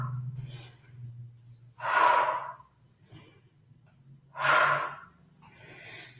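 Breathing while holding the ninja pose in aerial yoga, with two distinct, fairly close exhalations spaced a few seconds apart over a low background hum.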